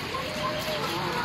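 Chickens clucking softly nearby amid steady background noise.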